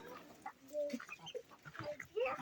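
Short clucks and squawks from a Lohmann hen with an injured leg close by, irregular bursts with a few higher calls among them.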